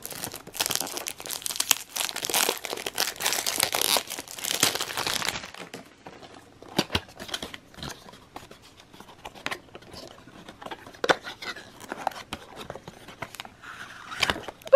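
Nocibé Sunny Fruit perfume packaging is opened up close: several seconds of dense crinkling and tearing of plastic wrap, followed by scattered softer rustles, taps and clicks as the box is handled.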